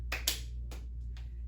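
Hand claps during a seated hacky sack exercise class, a few quick sharp claps close by in a quiet room, irregularly spaced over a second or so.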